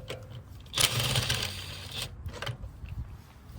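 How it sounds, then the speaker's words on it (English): Lug nuts coming off a Cadillac XTS rear wheel with a 22 mm socket, a loud buzzing impact-tool burst of about a second followed by shorter rattling clicks, close up and alone. "let's get these wheels off. We got the 22 millimeter socket"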